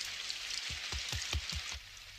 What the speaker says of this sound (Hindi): लेकिन मॉम बारिश हो रही है